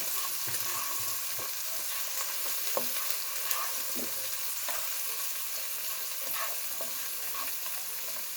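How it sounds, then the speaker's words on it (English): Vegetables with squeezed tomatoes sizzle steadily in a hot frying pan, with scattered spatula scrapes and taps from stirring over a continuous close frying hiss and no voices. "Just stir this around a bit. Then I put in my tomatoes."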